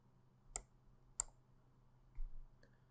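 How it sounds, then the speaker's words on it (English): Two sharp computer mouse clicks about half a second apart, close and clear in a quiet room, followed by a faint softer tick. "Then click on OK."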